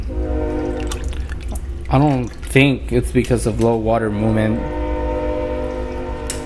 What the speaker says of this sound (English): I always tend to record when the train passes through here.